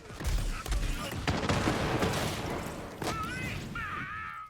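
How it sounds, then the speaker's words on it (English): Dense, rapid gunfire and projectile bursts from Zane's weapon in Borderlands 3 crackle continuously for several seconds, with booming impacts and a brief electronic whirring tone near the end. "see how I just shot one projectile there, and the dude in the corner is now dead?"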